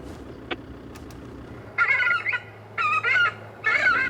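An airport bird-scaring unit plays a recorded lapwing distress call: a couple of faint clicks, then three loud, rasping bursts in uneven succession over a low steady hum.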